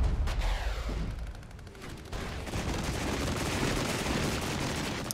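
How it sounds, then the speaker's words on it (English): Cluster artillery strike in a real-time strategy game, with a dense rolling barrage of overlapping booms and crackling impacts that swells into a steady, loud rumble lasting several seconds. "I do really like the cluster artillery look in this game"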